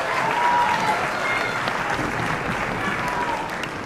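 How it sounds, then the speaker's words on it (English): An elementary school concert audience applauds a beginning ensemble, with dense, even clapping from a full room that fades slightly toward the end. "So I'd like to give them a round of applause."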